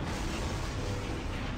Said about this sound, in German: die Explosionen sind ziemlich groß